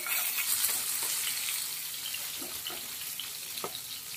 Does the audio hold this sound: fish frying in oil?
yes